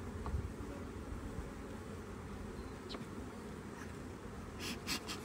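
A steady, dense hum of honey bees buzzing close by, continuous and even, with a few brief faint clicks and rustles near the end.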